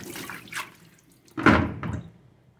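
Oxtail being washed again in a sink: short bursts of splashing, running water, with one louder slosh, close by and without talk.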